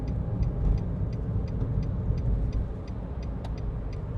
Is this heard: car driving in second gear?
yes